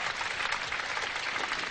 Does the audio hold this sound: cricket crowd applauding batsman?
yes